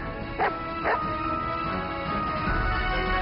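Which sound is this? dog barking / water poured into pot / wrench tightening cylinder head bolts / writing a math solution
dog barking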